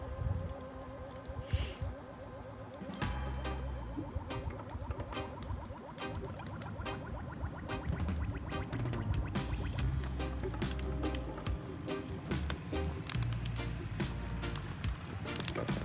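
A river flows past a small campsite in a snowy setting, giving a steady, continuous rushing wash with some tonal ringing mixed in.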